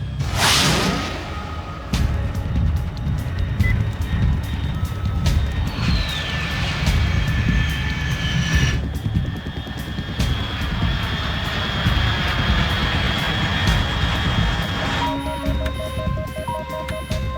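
An aircraft passes overhead in Metal Gear Solid 3, a loud, sustained engine roar with a whooshing sweep at the start and steady rumbling throughout, layered with game tones and electronic beeps, no talk.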